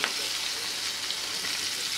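Onion sautés in hot oil with curry leaves, green chillies and a red chilli, a close, steady sizzling hiss with light stirring throughout.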